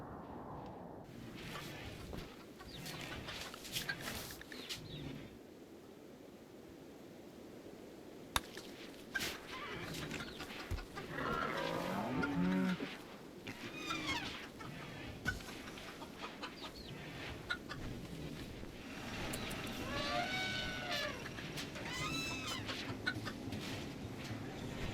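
Chickens cluck and squawk intermittently in RimWorld, a colony flock of 79 birds, their scattered calls rising over a low ambient bed without talk.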